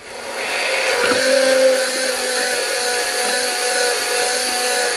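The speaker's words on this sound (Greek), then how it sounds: "Λοιπόν, χτυπάμε να γίνει αυγολέμονο." An electric mixer beats eggs for Greek avgolemono egg-lemon sauce, giving a steady, close whirring drone with a slight pitch shift about a second in and no voices.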